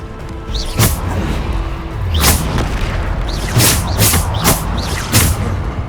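Bombarda explosion spells in Hogwarts Legacy go off as a series of five or six loud, punchy booms in irregular succession, close and forceful amid combat noise.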